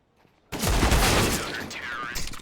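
USP pistol taps in a Counter-Strike match on the Anubis map erupt suddenly after a quiet start, a dense burst of close, loud gunfire and impacts that stays busy and then eases slightly.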